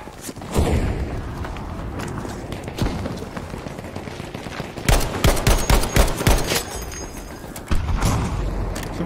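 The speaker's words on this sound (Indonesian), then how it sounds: "gue dengar suara tembakan" Rapid gunfire in a first-person shooter game featuring a Gewehr 43 rifle, with bursts of sharp overlapping shots, a heavy volley near the middle and scattered booms.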